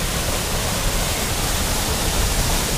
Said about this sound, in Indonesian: Suka banget di air terjun Tanjung Asap teman-teman